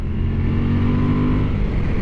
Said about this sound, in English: plenty of grunt from the engine